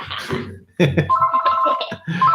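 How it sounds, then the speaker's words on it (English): A telephone rings in a live home-shopping broadcast setting, its electronic tone chirping in short repeated bursts while people talk over and around it. "When you call, it rings"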